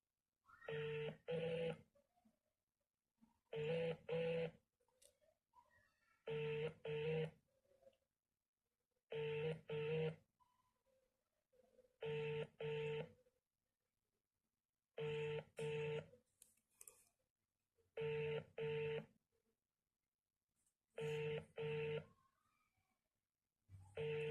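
A telephone rings back during an outgoing call, giving regular paired electronic ring tones with silent gaps between them, repeated about ten times, clear and close.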